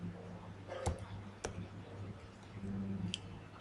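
A few sparse, faint clicks from a computer keyboard while HTML title tags are being typed, spaced out over a low steady background hum.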